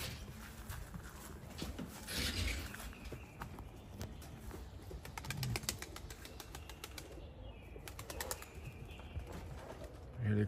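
Racing homing pigeons return to a loft in bursts of wing flapping and scuffling, with soft cooing, against constant outdoor background noise that sounds close and busy throughout.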